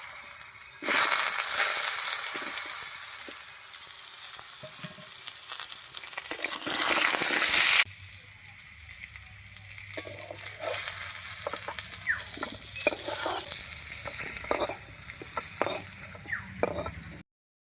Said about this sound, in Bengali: আমি ভেজে নেবো লাল লাল করে